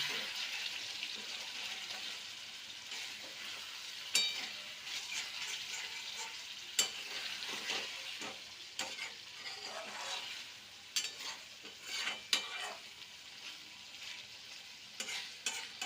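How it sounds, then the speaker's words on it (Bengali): Small mourola fish frying in a mustard-poppy spice paste, with a soft, steady sizzle under intermittent scrapes and clacks of a spoon stirring the pan. "এইভাবে আমি রান্নাটাকে করে নেব মৌরলা মাছে সর্ষে পোস্তর ঝাল"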